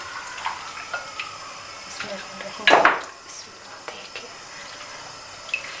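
Mutton is stirred and roasted in a pot for daal gosht, a Punjabi chana daal and mutton dish. A spoon scrapes and clinks against the pot, with one louder clatter in the middle, while someone talks quietly.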